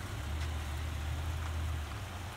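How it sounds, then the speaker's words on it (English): Rain falling outdoors near a car at an off-road spot, a dense, even hiss of drops close by over a low rumble, steady throughout with no voices. "it's raining out here"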